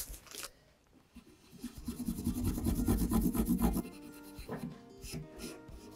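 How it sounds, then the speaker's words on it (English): Scrubbing a wooden instrument's finish with 4/0 steel wool, a rough rasping rub that builds into steady back-and-forth strokes in the middle, close and fairly loud, then eases off into lighter scratches. "So now I'm going to use some 4/0 steel wool."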